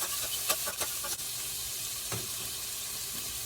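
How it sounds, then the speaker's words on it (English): Bacon frying in a pan gives a soft, steady sizzle, with a few quick scrapes and clicks near the start as it is stirred, fairly faint and without talk. "You don't have to keep stirring your bacon, but you just want to give it a little sauce."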